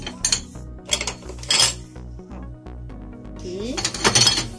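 Metal stove grates and burner caps clank and clink in a few bursts as they are dropped into a plastic trash bag, close up, while someone speaks briefly.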